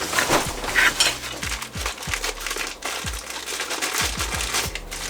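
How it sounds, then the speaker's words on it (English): Backpacking cook kit being handled: a metal pot rattling with a Z-Packs stuff sack, giving crinkly fabric rustling with scattered light clinks and low knocks, close and steady throughout. "This is my cook kit, bag from Z-Packs, and the ever new pot."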